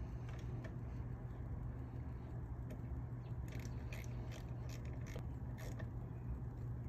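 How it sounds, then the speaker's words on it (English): A new nut is tightened onto the starter wire terminal of a Johnson or Evinrude outboard motor, giving faint metallic clicks and scrapes over a steady low background hum. "this starter did come with a new nut to go on there, so we'll put that new nut on,"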